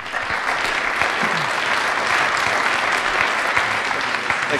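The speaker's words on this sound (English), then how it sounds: "Let's give them a round of applause." Sustained, loud applause from an audience at a Kansas City startup pitch event, a thick even roar of many hands clapping that holds steady throughout with no voices on top.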